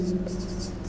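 Pen writing on paper, with faint repeated scratchy strokes in short bursts over a low steady hum.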